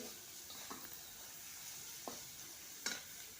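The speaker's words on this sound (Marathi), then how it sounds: "वटाणा पण आपल्याला परतून घ्यायचा आहे मिक्स झाला पाहिजे त्या आपल्या फोडणीमध्ये" Green peas are stirred in a frying spiced-oil tempering for samosa filling. A soft, continuous sizzle is broken by three or four distinct spatula scrapes against the pan, fairly quiet and with no voices.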